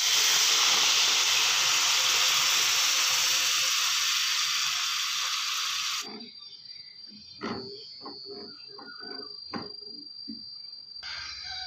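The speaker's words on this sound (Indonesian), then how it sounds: "Sekarang kita masukkan susu cair ke dalam bahan tumis tadi." Evaporated milk hits a pan of sautéed garlic and sliced button mushrooms with a loud, steady hiss, then after about six seconds drops to quieter crackling sizzle with scattered pops.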